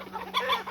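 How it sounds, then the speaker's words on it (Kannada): A village country chicken clucks close by in a short, lively burst of a few notes, with no talk. "ಕೋಳಿ ಹಿಡಿದ್ರು"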